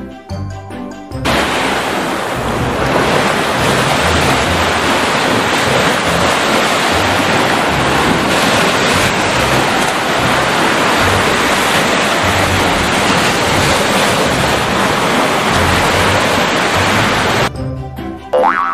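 Steady roar of ocean waves breaking and washing on a shore, loud and continuous throughout with no voices, fading in and out at the edges.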